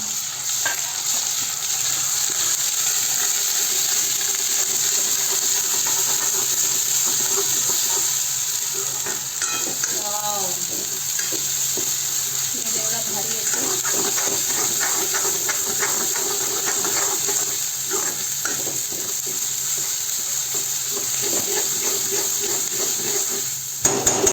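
Onion-coconut paste fries in oil for a spicy Marathwada rassa. A loud, constant sizzling hiss runs throughout, with intermittent stirring scrapes and taps layered close on top.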